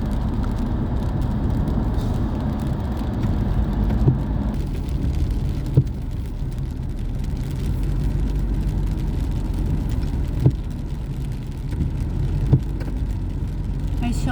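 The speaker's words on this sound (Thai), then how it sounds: "ฝนก็ตกนะคะทุกท่าน" Rain drumming steadily during a drive on the road from Lampang to Phayao, a continuous wash of road and tire noise with a few faint clicks, passing traffic blending into the hiss.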